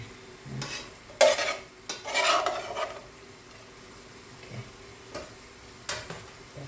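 Glass noodles for a baked chicken dish are tossed and stirred in a pan, giving short, separate bursts of scraping and rustling with quiet gaps between them.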